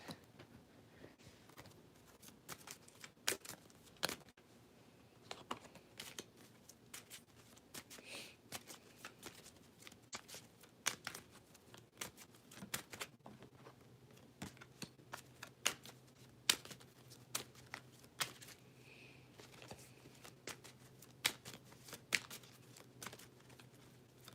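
Quiet, steady riffling and tapping of tarot cards being shuffled, with soft irregular clicks continuing for a long stretch and no talking.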